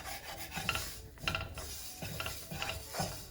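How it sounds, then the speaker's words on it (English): Gram flour roasting on very low heat is stirred in a dry pan, giving soft rhythmic rasping scrapes a few times per second, quiet and close, with no talk. "So while the gram flour is roasting really on extremely low heat"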